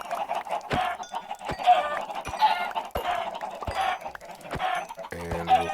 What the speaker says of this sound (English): It's kind of nice not having all the little chickens running around.